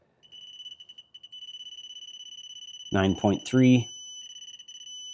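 A digital torque wrench beeps in a rapid pulsing pattern, then holds steady as a continuous tone on reaching set torque, while a voice speaks briefly over it, during Tesla Model 3 rear window regulator work.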